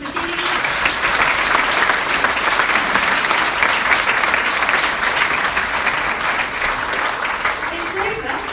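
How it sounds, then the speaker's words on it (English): Loud, continuous applause from a crowd, clapping steadily throughout with a few faint voices at the edges. "Round of applause for Athene"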